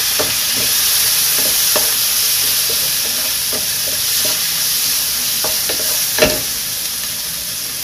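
Chicken pieces added to a pan for ginisang monggo, frying with a loud, continuous hissing sizzle broken by repeated scraping clinks of stirring and one sharp knock, close up and without talk.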